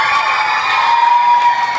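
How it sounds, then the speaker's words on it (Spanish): A crowd at a Christmas parade claps and cheers loudly in a steady burst, with shouts mixed into the applause. "Un aplauso fuerte para los chicos"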